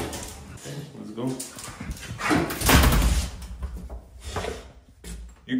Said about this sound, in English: You crazy dog.